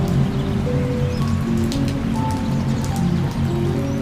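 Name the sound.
heavy rain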